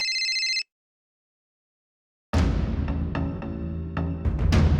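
A short electronic telephone ring sounds once, followed by about two seconds of silence and then a burst of clattering noise.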